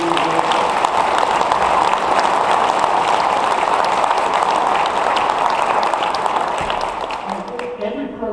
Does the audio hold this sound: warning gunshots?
no